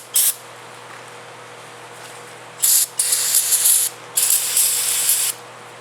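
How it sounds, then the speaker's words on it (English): A cheap Walmart can of brake cleaner sprays in short hissing bursts, one brief blast followed by three longer, close sprays, against a low quiet background. "See if the rest of this cheap Walmart can of brake clean will work."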